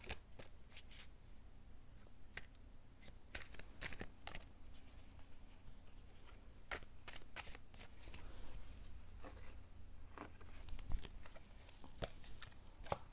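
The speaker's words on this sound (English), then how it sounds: "All right, give me another shuffle." Tarot cards being shuffled repeatedly, a steady papery riffling with sharp snaps, close and fairly quiet, no talking.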